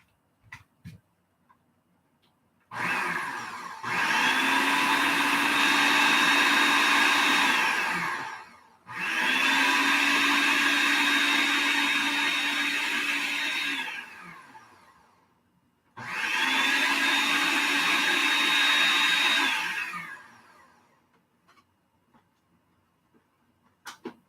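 Blender whipping cream into butter runs in three loud bursts of several seconds each, separated by short pauses, steady whirring motor close by with no voices.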